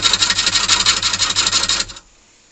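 A hollowing tool cuts a wood hollow form spinning on a lathe, giving a loud, rhythmic rasping and rubbing that pulses steadily, then stops abruptly, leaving near silence.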